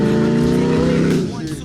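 An off-road trial vehicle's engine revs hard at an extreme mountain trophy event, a loud close mechanical roar with a strong droning pitch that holds briefly before dropping away, while voices talk over it.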